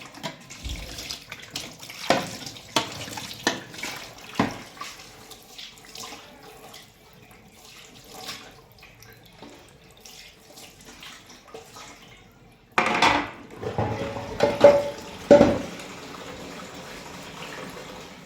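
Dishes being washed under a running kitchen tap, with water splashing and intermittent clinks of utensils, then a louder, steadier gush of flowing water in the last few seconds.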